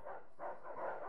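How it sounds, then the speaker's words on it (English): Dogs barking in a multiplayer shooter video game, two or three quick, moderately close barks in a brief burst with no talk. "Just let the dogs find him."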